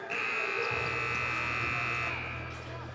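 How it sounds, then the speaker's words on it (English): A loud, sustained basketball game buzzer blares steadily for about two seconds at the end of the second quarter over crowd noise, then cuts off, leaving the arena murmur. "As the buzzer sounds for the second quarter."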